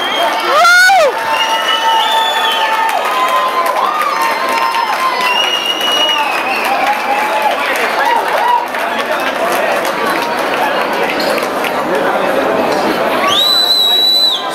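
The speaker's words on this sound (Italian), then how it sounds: "Io voglio sentire un applauso forte, ragazzi." A crowd at a salsa club event, Caribbean themed, cheering and shouting loudly with whistles and excited voices throughout, the noise sustained and dense, swelling again near the end.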